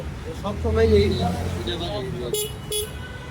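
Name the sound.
horn of a homemade electric bike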